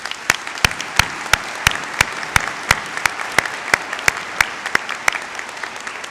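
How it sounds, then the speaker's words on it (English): An audience at a SUNY WCC spring commencement ceremony claps in a sharp, steady rhythm, loud and close, for about six seconds. "let's give them a round of applause."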